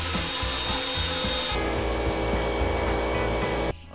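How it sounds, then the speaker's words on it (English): Die grinder working on bare metal, a steady continuous whine and rasp with rhythmic low pulsing, loud and close, holding nearly throughout before a brief drop at the end. "Alright, I put it on the die grinder."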